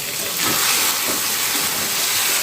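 Okra (bhindi) frying in a pan, giving off a steady, loud hissing sizzle that swells slightly and holds, with no talking.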